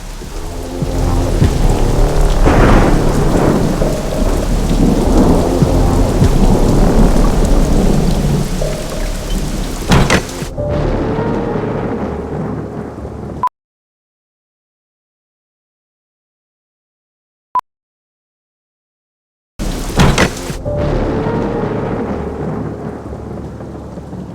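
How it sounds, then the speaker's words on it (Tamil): Heavy rain pours outside with rolling thunder, a loud continuous roar that cuts out abruptly to silence for several seconds before the downpour returns. "வெளியே இவ்வளோ ஜோரம் மழை பெஞ்சிட்ருக்கு"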